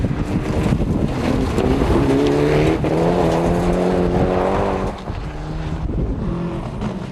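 A Group N rally car revs hard over a mountain stage at Summit 2000, its engine note climbing and shifting through gears in a loud, continuous drone that eases slightly near the end.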